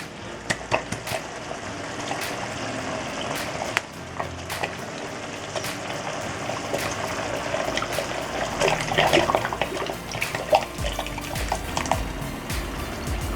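Tomato poured into a pot of Argentine-style bolognese with minced beef after the wine has cooked off, a thick wet glugging and splattering under a steady simmering sizzle, with occasional clinks, no talking.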